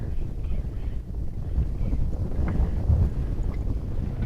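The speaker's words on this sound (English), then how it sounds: "It's getting too windy." Strong wind gusts across an open lake in the Ft. Drum Conservation Area, buffeting the microphone with a steady low rumble and occasional water slaps near a small boat.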